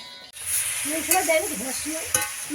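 Food sizzling and frying in a pan while a spoon stirs it, shared home cooking with several people; a steady close hiss with scraping stirs, and voices chattering faintly underneath.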